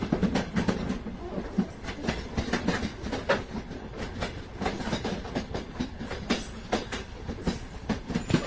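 A passenger train rolling along the rails, heard from inside with steady rhythmic clickety-clack of wheels over track joints and a constant rumbling roar, with no one speaking.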